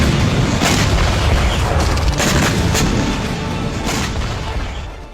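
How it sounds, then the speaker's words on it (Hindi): A missile interception over Israel produces loud, continuous rumbling booms, with several sharper blasts breaking through a dense roar that slowly fades over a few seconds. "इजराइल ने इस मिसाइल इंटरसेप्शन का एक वीडियो भी जारी किया है"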